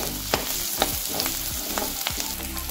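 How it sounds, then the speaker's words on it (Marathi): Onions sautéing until translucent in a pan for dahi bhindi give a close, steady sizzle, broken by a few scraping strokes and taps of a spatula against the metal at uneven intervals. "अजून थोडं परतूया 2 मिनिटं"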